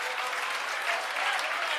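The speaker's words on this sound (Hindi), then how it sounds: "तीनों के लिए तालियां बजाओ" Classroom applause for three students selected for the police department, a steady, dense patter of many hands clapping at a fairly soft level, with no voices over it.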